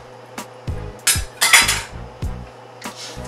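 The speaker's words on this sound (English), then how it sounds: "Stir it up." A spoon knocks and scrapes against a metal pot while stirring liquid with bouillon cubes, a series of uneven clinks and clunks about a dozen times, close and without talk.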